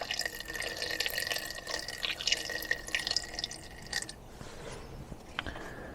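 Very thin liquid is poured through a small funnel into the cylinders of a seized barn-find Jaguar S-type engine, giving a continuous close trickling and dripping fill that changes pitch as it rises, with no talking.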